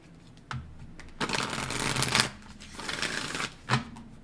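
Moonology oracle cards being shuffled by hand, close and quiet, in several riffling bursts with brief pauses and soft taps between them, without any talk.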